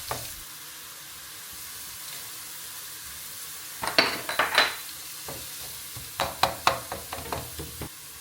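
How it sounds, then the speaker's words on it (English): Chopped onion and pine nuts sauteing together in butter and olive oil for a Turkish rice pilaf, a quiet steady sizzle broken by clusters of sharp clinks and scrapes from stirring in the pan. "So I'm sauteing my onion and the pine nuts together in butter and olive oil."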